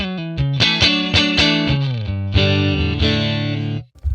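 A Stratocaster through a 1957 Tweed Bassman amp model plays a warm, slightly overdriven short phrase of picked notes and a sustained chord, close and clear, then cuts off.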